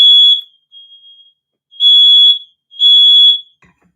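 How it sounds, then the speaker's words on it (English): A smoke alarm set off by burnt popcorn cooking downstairs emits loud, piercing electronic beeps in a repeating pattern, alone with no talk. "Uh-oh, fire alarm going on."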